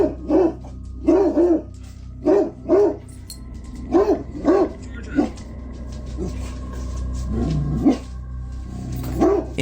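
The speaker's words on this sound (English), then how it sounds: "her dog Georgia can be seen standing at the edge of the room, barking anxiously at a 100-year-old oil portrait hanging on the wall" A dog named Georgia barks anxiously in short clustered bursts at an old oil portrait on a wall, the barks loud and close in a quiet indoor room, with a few softer yips near the end.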